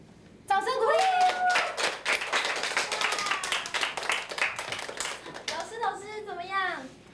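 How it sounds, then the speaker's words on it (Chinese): A small group bursts into lively clapping and applause, many hands close by in a dense rapid patter, with voices calling and talking over it before it fades. "掌声鼓励"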